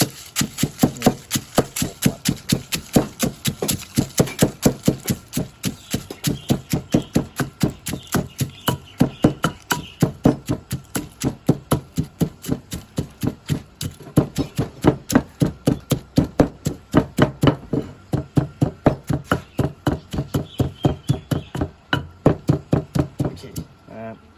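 Fried chili and kaffir lime pounded in a mortar with a pestle as a Thai snack is made, a steady run of dense, evenly spaced thuds that keeps going with brief pauses, close and fairly loud.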